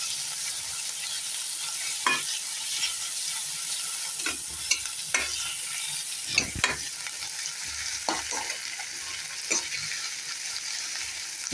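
Mushrooms and chopped tomatoes frying in a pan, a steady bright sizzle throughout with a handful of scattered stirring scrapes and light utensil knocks, no voices.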